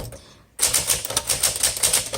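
A 1963 Smith Corona Sterling 5AX manual typewriter being typed on with a grinding mechanism, a steady run of close, crisp keystrikes following a brief quiet moment at the start.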